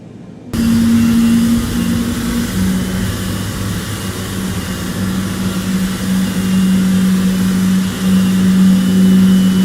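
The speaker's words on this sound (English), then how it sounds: "We have a good engine start." Boeing 777 engine 1 spooling up in Microsoft Flight Simulator 2020, a loud steady rising whine and rumble that kicks in abruptly and holds, with a sustained low tonal hum and slight swells.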